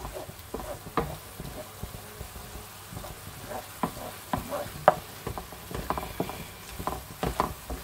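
A tomato bolognese sauce cooks in a pan and is stirred, giving soft scraping and occasional light knocks and clicks over a faint steady simmer, close and quiet.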